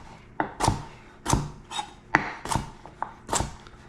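A knife chops carrots on a cutting board in a home kitchen, with about eight sharp, close knocks at a steady, unhurried pace and no talking between them.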